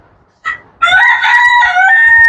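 A rooster crows loudly and close, one long drawn-out call after a short cluck, with faint clucking from other chickens underneath, on a farm keeping fancy foreign chicken breeds.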